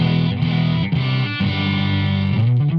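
Electric guitar run through a Marshall Code 50 modeling amp with the resonance control turned up to ten, giving a loud, continuous distorted tone with heavy low end and sustained chords that shift a few times, played alone.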